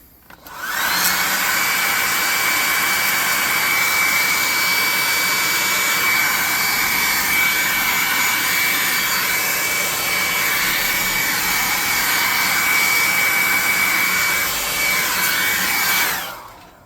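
A hot air gun blows on a tabletop miniature of a fire elemental, a loud, steady whooshing roar with a thin whine that runs unbroken for about fifteen seconds, then cuts off.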